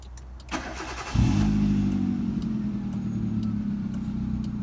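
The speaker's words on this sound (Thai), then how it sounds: "เหยียบเบรกนะครับ แล้วก็กดสตาร์ท" A KIA car with manual gearbox and push-button start cranks briefly and fires up, then settles into a steady, close idle hum after a click.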